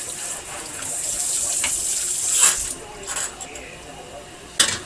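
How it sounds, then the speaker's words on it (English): Cheese-making utensils rinsed under a running kitchen tap, a steady hiss of water ending with a sharp clink of metal, close and clear without talk. "I'm going to rinse this off, because if not, these are a bugger to wash if the curd dries on"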